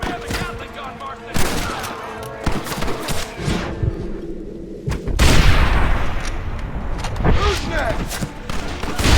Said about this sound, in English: The Gatling gun, use it!